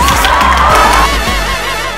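A studio audience on a Vietnamese TV dating game show bursts into loud applause and cheering, a dense, steady wash of clapping and crowd noise that fills the whole moment without speech.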